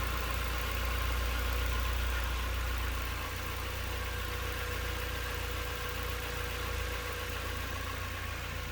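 A 2000 Mazda MX-5 Miata LS with a 1.8-liter dual overhead cam engine idles smoothly, giving a constant low hum and buzz heard close up, with no talking.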